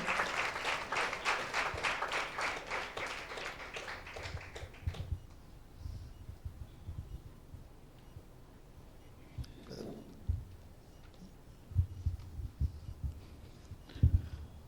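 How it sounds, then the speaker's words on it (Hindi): Congregation at a Hindi-language church service gives loud, sustained applause for about five seconds, then it fades to quiet room noise with a few scattered taps and thumps. "एक जोरदार ताली देंगे परमेश्वर की महिमा के लिए।"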